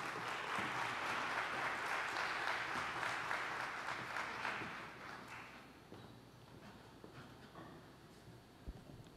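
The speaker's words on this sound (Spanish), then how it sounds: "Damos un aplauso y recibimos entonces a José Manuel Anta." Conference audience applauding as a speaker on sustainability in the publishing industry is welcomed, a dense round of clapping from many hands that fades out over several seconds, leaving quiet room noise and a few knocks.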